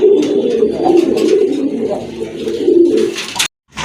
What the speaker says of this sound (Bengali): ডান পাশে এটা হচ্ছে নর কবুতর, বাম পাশেরটা কিন্তু মাদি কবুতর।